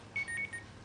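A mobile phone alarm goes off during a results presentation, giving a short run of thin electronic beeps in a quick broken pattern, faint against room tone, with no talking.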